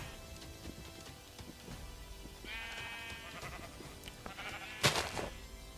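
Sheep in the Minecraft video game bleat several times over quiet game ambience, with one louder, nearer bleat close to the end.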